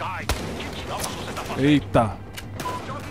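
Gunfire during a shootout in the video game Battlefield Hardline, a few sharp shots and thuds scattered across a busy mix, with a man's brief exclamation over the top.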